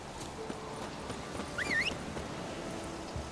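Horse hooves clip-clop on the ground in The Witcher 3 video game, a soft irregular thudding under steady ambient noise, with a brief chirping bird call rising midway.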